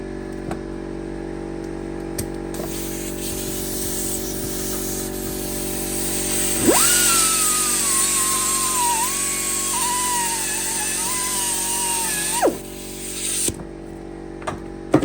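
Angle grinder running steadily on a Hillman Imp rear brake back plate, a continuous loud whine with a bright hiss, the pitch sagging and wavering as the disc bites the metal, then cutting off.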